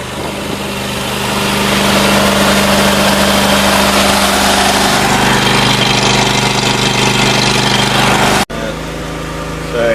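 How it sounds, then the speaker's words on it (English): A diesel genset generator runs steadily at a loud, even drone with a constant low hum, cutting off abruptly near the end before resuming at a slightly lower level. "Just direct DC from the genset."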